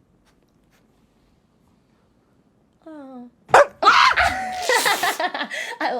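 A dog gives a brief bark or whine, then several people laugh and talk loudly over it in a casual podcast setting.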